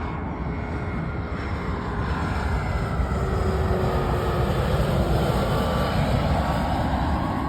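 An Icelandair Boeing 757 in Aurora Borealis livery lands at night, a loud, steady broadband jet roar with a faint rising engine whine, sustained close by throughout.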